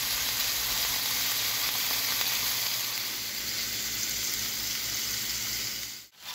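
Meat for goulash sears on a griddle with a loud, steady, close sizzle that holds nearly unchanged, dipping briefly just before the end.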